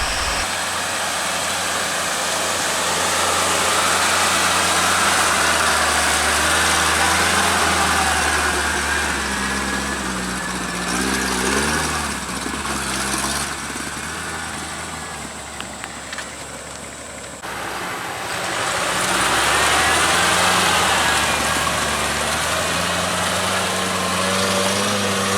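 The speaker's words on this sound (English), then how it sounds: "Here's my 87 Suzuki Samurai." A 1987 Suzuki Samurai on 31x10.50 Super Swamper TSL tires runs steadily at an off-road park, its engine droning loud and close with a brief dip in level partway through.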